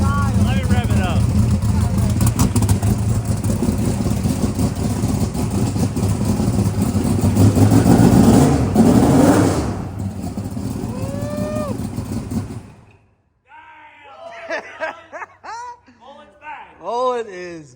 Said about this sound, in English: Let me rev it up.